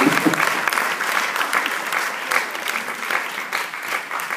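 Audience applause at a tribute event, a steady dense wash of clapping from a crowd that holds at an even level throughout without fading.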